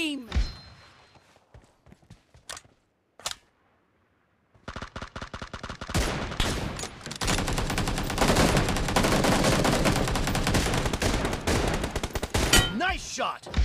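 Gunfire in the mobile game PUBG Mobile during a team deathmatch with an M24 sniper rifle: a few sharp isolated shots, then a loud, dense stretch of rapid automatic fire rattling on for several seconds, with game announcer voice lines in between.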